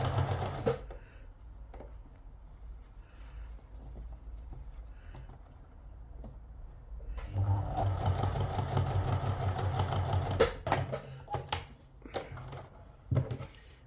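A sewing machine stitches the seam of a cloche hat, its rapid mechanical chatter running in steady bursts for several seconds, with quieter handling noises before and after.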